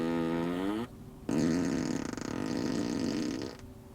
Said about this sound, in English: It also creates a lot of happiness because it's got fart sounds.